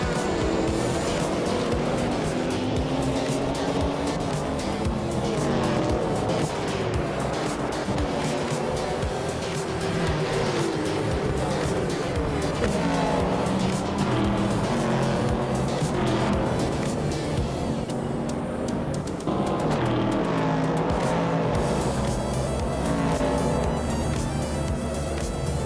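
Vintage race cars lap Monaco in a racing video game, engines droning loud and continuous with dense, busy layered revving and occasional shifts in pitch, no talk over it.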